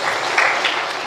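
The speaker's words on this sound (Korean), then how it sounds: "그분에게 박수 한번 드리겠어요." Short burst of applause from a church congregation during an early-morning worship service, a dense, close patter of clapping hands lasting about a second.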